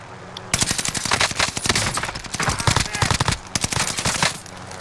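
Rapid machine gun fire in a battle royale video game, long bursts of fast automatic shots rattling close and loud, with a brief pause between volleys.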